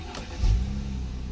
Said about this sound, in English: If I start the car up